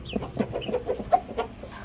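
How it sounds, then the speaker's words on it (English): A broody hen clucking close by, a run of soft, low, rhythmic clucks and grumbles with no pauses. "here's my little broody chicken."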